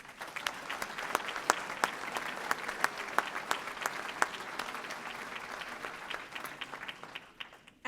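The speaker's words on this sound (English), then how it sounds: "Please give those students a tremendous round of applause." A graduation ceremony audience at Central Lakes College applauds its graduating students with steady, moderately distant clapping. Sharp individual claps stand out over several seconds before it tapers off.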